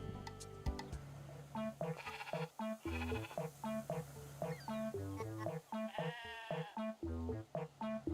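Repeated sheep bleats in a video game over a busy game soundtrack of plucked melodic notes, fairly loud and continuous throughout.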